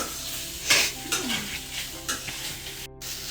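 Leftover chapati mixture sizzles in a pan on low flame, stirred with a utensil that scrapes and knocks against the pan in irregular strokes over a steady, close frying hiss.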